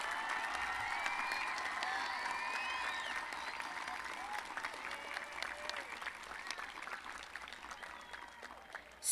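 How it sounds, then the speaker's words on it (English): Sustained applause from a junior high school promotion ceremony audience honoring the school staff, steady and full throughout with light crowd noise mixed in. "Join me in a round of applause for their hard work and dedication."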